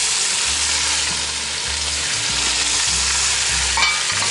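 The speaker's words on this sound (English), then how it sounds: "Here what we're trying to do is just get a little sear going on them." Pork bones sear at the bottom of a Dutch oven with a loud, constant crackling sizzle and a low steady hum beneath it, close and uninterrupted, with no voices.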